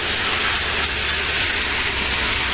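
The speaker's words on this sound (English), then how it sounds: "I'm going to fry them until they're brown" Cubes of beef rump roast browning in hot oil inside a pressure cooker give off a loud, steady, broadband sizzle that hisses on without a break.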